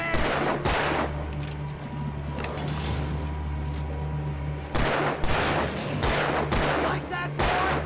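Gunshots ring out in Alan Wake Remastered, sharp loud bursts fired in an irregular volley with a steady low hum of background ambience underneath.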